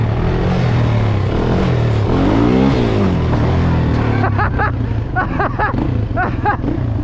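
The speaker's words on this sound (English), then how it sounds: "hit the gas a little bit" A car engine revs as the driver gives it gas, a steady loud low rumble rising in pitch partway through, with shouts and animated voices near the end.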